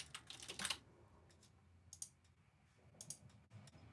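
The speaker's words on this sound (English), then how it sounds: "I can also type in a custom status." Typing on a computer keyboard, close quiet bursts of key clicks with short pauses between them.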